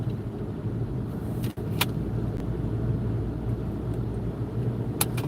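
A car drives along a road with a steady, loud engine and tyre rumble throughout, and a brief dip and a couple of faint clicks partway through.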